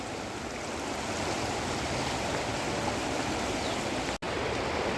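The fast-flowing Ganges at a Haridwar ghat gives off a loud, steady rushing roar that fills the whole stretch without pause.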